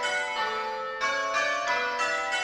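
Simulated church bells ring plain hunt on a Flying Dutchman ringing simulator, a steady sequence of clear, resonant bell strikes in even rhythm, changing pitch as each bell sounds in turn, close and alone.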